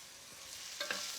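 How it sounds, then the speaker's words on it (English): Bacon frying in a pan gives a faint, quiet sizzle, then a couple of soft scraping stirs toward the end. "I do want to give the bacon a little stir."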